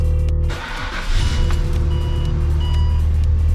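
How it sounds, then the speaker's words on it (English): A Ford BA Fairlane engine cranks and catches, then settles into a steady idle hum, close and fairly loud. "So I start the car up."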